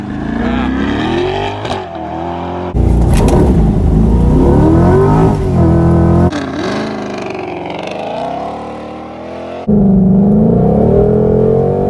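Engines of a 2020 Shelby GT500 and a C8 Corvette rev and accelerate hard during a 0 to 60 run, loud and close, with abrupt cuts between full-throttle bursts and rising gear pulls.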